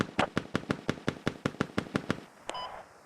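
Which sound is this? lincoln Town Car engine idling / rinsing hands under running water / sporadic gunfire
sporadic gunfire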